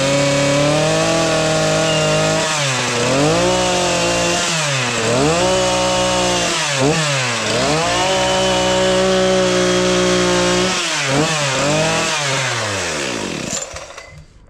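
A chainsaw carving a block of wood runs loud and close, its engine pitch dipping and rising repeatedly as the bar bites into the wood and frees up, then cutting off at the end.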